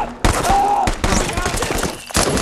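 Loud, rapid gunfire cracks in quick succession, each shot followed by a short, bright slapping echo, dense and close.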